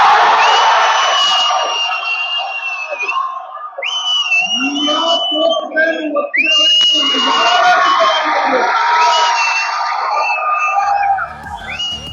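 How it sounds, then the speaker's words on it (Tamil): A large crowd of fans cheers and roars for actor Dhanush, with whistles, shouts and whoops rising in loud overlapping waves that swell and dip without pause. "ஆரவாரம் எழுந்தது."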